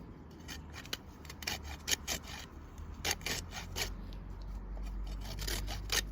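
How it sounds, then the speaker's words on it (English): Fresh horseradish root rubbed against a grater in quick, rough, uneven rasping strokes, close and moderately loud, with no voices. "I'm now going to grate it."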